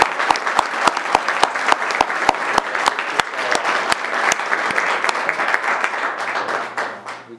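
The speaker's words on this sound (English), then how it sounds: "One more round of applause," Round of applause from the room at a regular council meeting, a steady wash of clapping from a modest crowd punctuated by sharp, evenly spaced loud claps near the microphone, fading out after about seven seconds.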